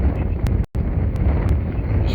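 Wind buffets the microphone during a Fimi X8 SE drone flight, a steady loud low rumble with brief gusty swells and one short dropout.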